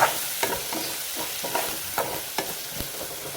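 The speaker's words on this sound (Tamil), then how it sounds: "இந்த தக்காளியை நல்லா வதக்கணும்" Tomatoes sauté in a pan for a crab pepper masala, giving a steady close sizzle broken by a handful of sharp spatula scrapes and clacks against the metal, with no voices.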